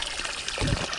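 Water runs from the pump line into a koi pond fitted with an automatic drum filter, a steady close trickle and splash that swells into a heavier, fuller gush near the end of the second.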